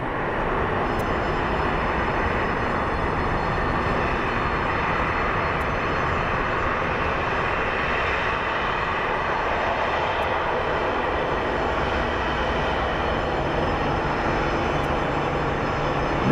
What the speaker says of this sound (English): And we do have a Southwest Airlines plane coming in.